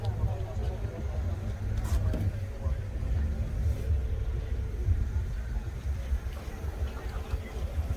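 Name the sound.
Mercedes car engine running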